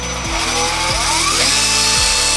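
An electric drill spins a Beyblade launcher with a loud continuous whirring whine. The motor pitch drops and then rises again several times across the clip.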